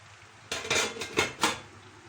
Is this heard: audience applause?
no